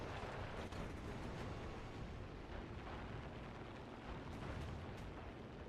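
Rapid, continuous tank gunfire with the fire button held down in the War Thunder game, a WWII-era tank battle around Stalingrad: dense, loud bursts and booms pile into one unbroken roar of explosions across the whole stretch.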